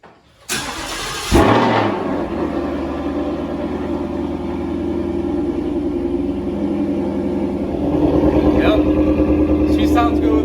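A 2020 Ford Mustang GT350 fitted with a Corsa Extreme exhaust cranks and fires up with a sharp bark, then settles into a loud, deep, rumbling idle that swells slightly toward the end, heard close up.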